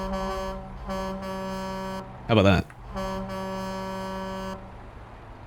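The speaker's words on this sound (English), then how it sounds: "Like a train horn." A truck's train horn blasts in several loud, tonal bursts of varying length during a convoy drive, separated by short gaps, with a man's brief remark in between.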